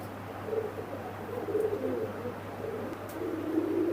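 Soft, low cooing from a male high-flying pigeon, several rounded coos rising and falling close by over a steady background hum, with no talking.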